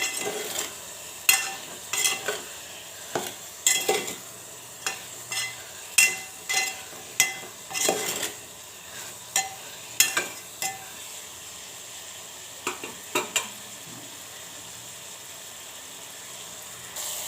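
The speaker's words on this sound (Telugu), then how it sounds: "ఇప్పుడు ఆయిల్లోనే కొద్దిసేపు కలుపుకుంటూ వేయించుకోవాలి" Bitter gourd pieces fry in oil in a village-style kitchen, a steady soft sizzle under repeated sharp scrapes and taps of a spoon stirring against the pan, with no voices.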